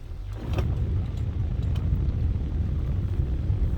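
A car rolls along on the drive home, giving a steady low road rumble and engine hum with tire noise, continuous and fairly loud from start to finish, with no one talking.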